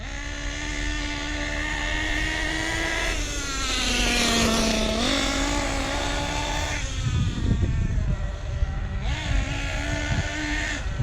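A Losi 8T RC truck's small nitro engine is run at quarter throttle during break-in, buzzing loudly with rising and falling revs, several pitch swoops as throttle changes, close by with no talking.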